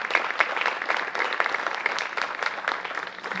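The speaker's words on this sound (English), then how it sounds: "please give them a round of applause" Audience applause for school staff at a courtyard dedication at the Kennedy School: steady, dense clapping from a crowd, sustained at even loudness for a few seconds with no voices over it.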